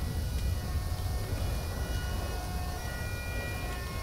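An ambulance siren in a GTA 5 police patrol game scene wails steadily at moderate distance during a storm, a sustained tone over low rumble and noise, with no speech.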